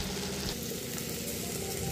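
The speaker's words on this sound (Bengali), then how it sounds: "আস্তে আস্তে ভাজা হতে থাকবে মশলাটা" Spice paste for a Bengali cauliflower, potato and pea dalna frying gently on low heat in a pan, a steady soft sizzle and crackle running evenly throughout with no voices.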